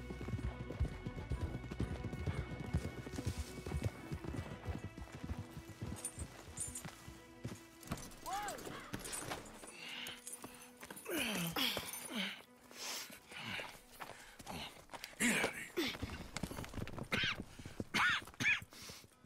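Horses in the video game Red Dead Redemption 2 clop along in a steady hoof rhythm, then snort and whinny up close, at a fairly faint overall level.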